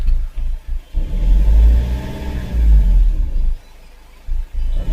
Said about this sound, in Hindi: गाड़ी स्टार्ट।